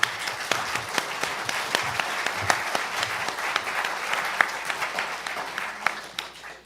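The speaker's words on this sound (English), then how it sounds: "Thank you very much for your kind applause" An audience applauds to welcome speaker Martin McMahon at a lecture on the legal battle against Israeli settlers, steady clapping from a roomful of people that holds throughout with a few louder individual claps.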